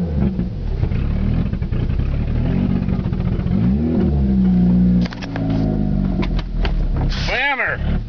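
An Eagle Talon car engine on a test drive runs rough and misfires, revving and surging unevenly from inside the cabin, with people talking over the noise.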